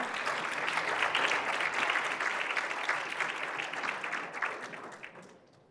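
Audience applause welcomes Alessandro Chagas Farias, Santander Brasil investment director, to the stage at a Santander investments event, a dense steady clapping of a sizeable crowd that holds for several seconds and then thins and fades.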